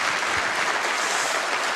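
An audience at a Donald Trump campaign rally in Ottumwa, Iowa, claps steadily, a thick, even roar of many hands at moderate distance, with no speech over it.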